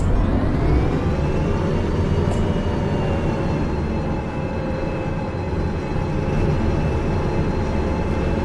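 Locomotive in Derail Valley rumbling steadily along the rails, a loud continuous low drone with a sustained whining tone layered over it, unbroken from start to finish.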